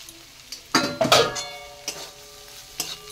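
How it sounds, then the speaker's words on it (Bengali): Neem leaves are stirred into fried brinjal in a pan: a few bright metallic scrapes and clinks of a spatula against the pan ring out over a faint low sizzle, with quiet gaps between strokes. "আর আমি নিম পাতাটা এভাবে মিশিয়ে থাকি।"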